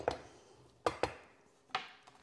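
A spoon stirs food in a cooking pot, making a few sharp knocks and scrapes against the pot spaced unevenly, close and fairly quiet with no talking.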